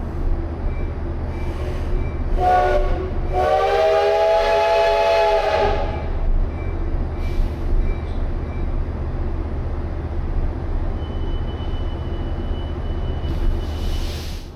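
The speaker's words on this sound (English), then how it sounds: "So they just put the steam train in front of us" Steam locomotive idling at a station platform in Taiwan, a low steady rumble with one loud, clear whistle blast of a few seconds and fainter short hisses around it.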